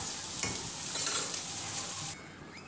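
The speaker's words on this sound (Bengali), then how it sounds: "আর এদিকে করলাটা ভাজা হচ্ছে" Sliced bitter gourd (karela) with salt and turmeric fries in a pan with a steady sizzle, briefly stirred, close and fairly quiet.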